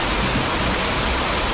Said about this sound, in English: Still raining at Kirkcaldy.